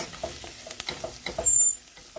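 Red pepper flakes are stirred into hot fat in a pot for a spicy mint bulgur soup, a soft crackling sizzle with light scraping and clicking spoon strokes, fairly quiet and close, with no talk.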